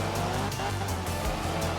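A rally car in the game art of rally slides through a corner: a dense, loud, continuous engine roar with gravelly tire noise and pulsing throttle changes, with no talk over it.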